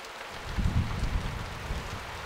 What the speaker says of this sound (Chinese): 这么大的雨，把马蹄子都泡软了